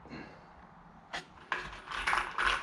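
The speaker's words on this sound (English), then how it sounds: "Zap a couple pocket screws in." A drill driving a couple of pocket screws into cedar planter legs, a short whir followed by several quick ratcheting bursts, close and fairly quiet.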